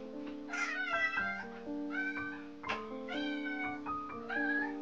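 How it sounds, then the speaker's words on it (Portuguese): A cat meows indoors in a bedroom, giving a series of clear, close, rising and falling meows with short pauses between them, alone without talk. "Tava miando pra entrar no quarto?"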